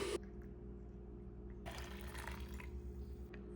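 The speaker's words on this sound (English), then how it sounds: "we're gonna put the hot water in the cup, then put it in here so that it's measured out" Hot water is poured into a cup to make mate tea, a steady close splashing stream that swells midway and then tapers off, with no voices.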